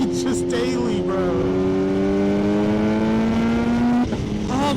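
A Kawasaki ZH2 motorcycle accelerates hard through the gears, its loud, close engine note climbing steadily with brief breaks at the shifts.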